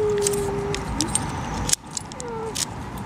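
A bunch of keys jangles in several short metallic bursts while being fitted to a lock outdoors, close by, with faint traffic behind and brief quiet voices.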